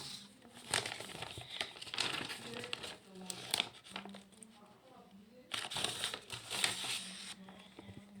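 Package being unwrapped, crisp plastic crinkling and tearing in bursts close to the microphone, with a person talking intermittently over the rustling.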